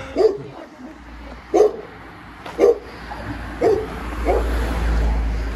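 A dog barks four or five times in evenly spaced single sharp barks on a city street, fairly close, with low traffic rumble underneath and rising toward the end.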